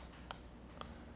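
A pen writes by hand during a Korean real-estate law lecture, making faint scratching strokes with three short, sharper ticks spaced about half a second apart over a quiet room background.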